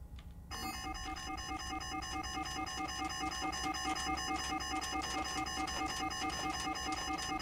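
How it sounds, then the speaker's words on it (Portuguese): A repeating electronic alarm in a detective video game rings continuously in a fast, looping beeping pattern, loud and steady after a brief noisy start. "Vai ficar esse alarme horrível disparando."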